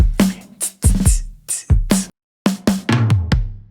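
Produced drum beat with a swapped-in hi-hat and room reverb: punchy kick and snare hits with crisp hi-hat ticks in a loose pattern, briefly cutting out before resuming, loud and close with no talking.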